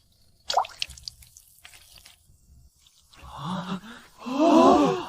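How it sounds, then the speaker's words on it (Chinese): Animated water drips through holes in bamboo pipes for drip irrigation, seeping toward crop roots. Sharp drips come early, followed by louder, swelling tonal sounds in the last two seconds. "让水顺着竹孔一滴一滴，直接渗进作物的根部。"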